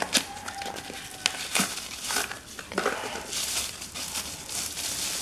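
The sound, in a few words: unboxing packaging of a Pocketman P1 LED flashlight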